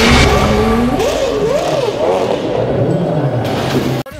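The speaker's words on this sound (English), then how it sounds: "The very last out of the pit, Naoki Yamamoto went on to set a new course record" Super Formula race car at Suzuka Circuit during qualifying, its engine note rising and falling in loud wavering sweeps as it runs, with a commentator talking over it throughout.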